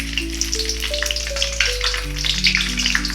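Whole garam masala and bay leaf crackling in hot oil with a little ghee: a dense, continuous sizzle and spitting, loud and close, with a steady low hum underneath.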